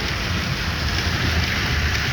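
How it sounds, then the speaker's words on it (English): Rain falling on a moving vehicle during a drive from Navajo to Crystal, New Mexico, heard as a dense, steady wash of noise with no pauses. "Just feeling that rain. Damn, it's getting heavier."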